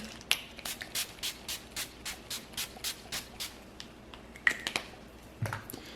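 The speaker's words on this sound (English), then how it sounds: "take my Benign Final Seal and spray my face" A rapid series of about a dozen short, soft spritzes from a pump bottle of makeup setting spray onto a face in a steady rhythm, followed by a few scattered handling sounds.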